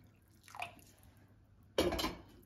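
Broth being poured into kelle paça soup, a brief liquid splash near the start followed by a louder, fuller pour later on, close and alone.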